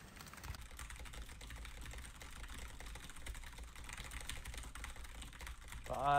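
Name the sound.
fast typing on a computer keyboard on Monkeytype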